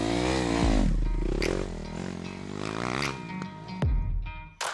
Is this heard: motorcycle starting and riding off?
yes